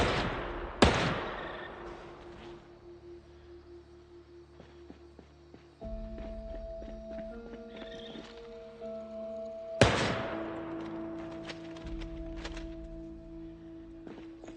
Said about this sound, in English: Gets to have loud gunshots in one direction and moaning zombies in the other.